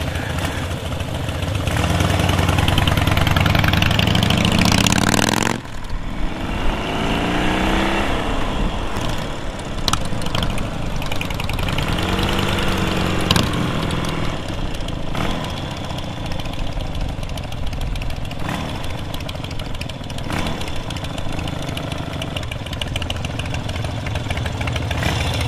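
A 2009 Harley-Davidson Heritage Softail Classic motorcycle engine runs loudly and steadily for the whole stretch, with a heavier burst at the start and a few rising and falling revs along the way.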